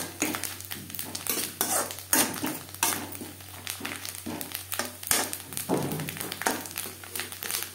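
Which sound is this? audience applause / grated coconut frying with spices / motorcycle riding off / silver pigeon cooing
grated coconut frying with spices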